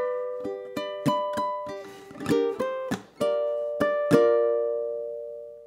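A ukulele picks out a bright melody of plucked single notes and chords, each attack ringing and decaying, played steadily and alone at moderate loudness before a final chord rings out.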